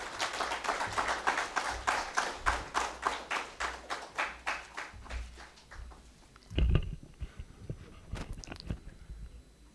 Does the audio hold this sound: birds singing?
no